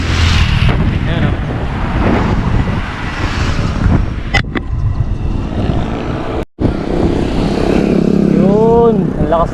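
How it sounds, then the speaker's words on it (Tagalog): Strong headwind buffets the microphone during a long-distance motorcycle ride near Candon City, a loud continuous roar of wind noise with gusts, briefly cutting out once, while a rider talks over it. "ang lakas ng hangin. Headwind pa dito sa Candon."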